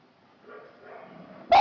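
Month-old puppies abandoned in a box outside an animal shelter in Cyprus, soft faint whimpering and murmuring that ends in a sudden sharp, loud yip.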